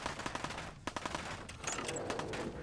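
Rapid bursts of musket gunfire in the video game Fallout 4, sharp repeated cracks over a dense, loud background of game sound with no talking.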